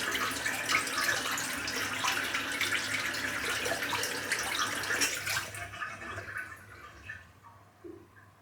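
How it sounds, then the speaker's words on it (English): Cold water runs steadily from a bathroom tap after a wet shave, a continuous close splashing stream that fades and stops near the end, with no voices. "Just dab a bit of cold water on there as well"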